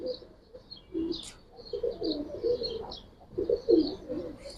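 Bagha and Silver giribaz pigeons kept in a large house collection coo in repeated low, rolling phrases, near and continuous, with faint higher chirps above them.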